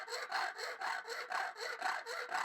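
A hand saw cutting head flashing during a beach house renovation, a close, quiet rhythm of about nine rasping back-and-forth strokes, evenly spaced with no talk.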